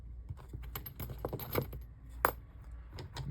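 A few light clicks and clinks of small hollow metal dice rattling together, with one brighter metallic ping standing out partway through.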